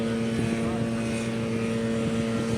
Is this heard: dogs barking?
no